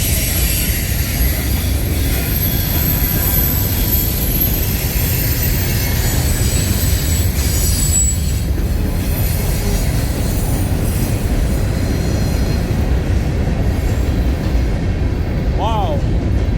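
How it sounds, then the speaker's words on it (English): An Autorack freight train rolls past on the rails in a continuous loud rumble, with faint wheel squeal and clatter, and a voice talking over it. "oh, it's an Autorack train"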